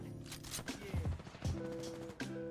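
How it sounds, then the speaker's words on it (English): Gunfire in the Apex Legends battle royale, with several bursts of shots over a little under three seconds. The shots sit amid game music and effects and a voice talking. "Shoot the lifeline, that's one."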